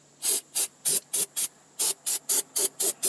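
Aerosol can sprayed around the gasket on the front Dana differential of a 1998 Jeep Cherokee, eleven short hissing bursts in quick, fairly even succession, close and loud with no talk.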